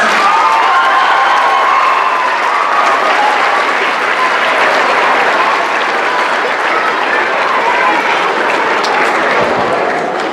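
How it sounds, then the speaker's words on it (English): A crowd at an elementary school choral showcase gives loud, sustained applause with scattered cheers, filling the whole stretch without a break. "Can we give Chisholm Trail another round of applause?"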